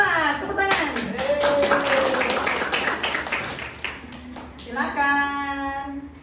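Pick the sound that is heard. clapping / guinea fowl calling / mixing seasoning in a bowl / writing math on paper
clapping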